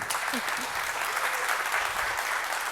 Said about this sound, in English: Please give one more round of applause for Jacqueline Lee.